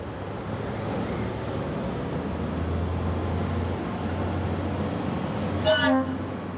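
A small rail bus rumbling steadily along, with a low engine drone and a short horn toot near the end.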